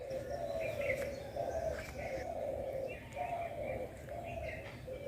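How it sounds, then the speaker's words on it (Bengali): Birds call repeatedly at sunrise around a riverside resort near Murguma, a cooing dove prominent among softer chirps, layered and moderately distant in cool morning air, with no talk. "শুনতে পাচ্ছ পাখিদের প্রভাতী।"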